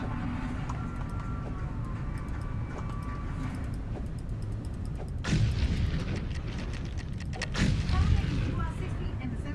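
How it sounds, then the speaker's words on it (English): Explosions blast through the floor in the factory-building video game Foundry: two heavy booming bursts land a few seconds apart over a steady rumbling game backdrop, each with a rough, crackling tail. "Got tired of mining by hand, so fuck it. I'm just gonna explode it."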